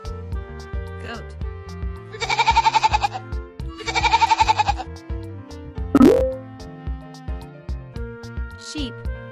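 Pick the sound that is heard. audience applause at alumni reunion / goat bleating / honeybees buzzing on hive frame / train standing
goat bleating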